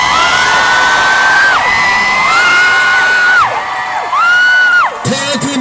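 Fans at an airport welcome for Thailand's Miss Universe contestant scream and cheer loudly in sustained, rising shrieks, a dense crowd of high-pitched voices with whoops that swell and break off in waves.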